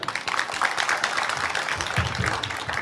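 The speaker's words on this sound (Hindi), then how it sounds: "आप सब बच्चे जितने देख रहे हैं स्टेज वालों को सबके लिए ताली बजाइए" A school audience claps for students on stage: continuous, fairly loud applause from many hands for about three seconds, with a few voices mixed in.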